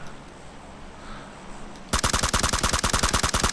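Rapid automatic gunfire in PUBG, a steady stream of loud, evenly spaced shots that starts abruptly partway through after quiet game ambience.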